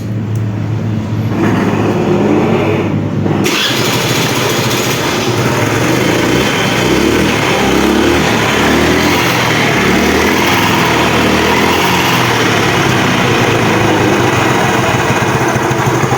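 A vehicle engine is started and left running: after a brief quieter opening, it settles into a loud, steady, close idle that continues unbroken to the end.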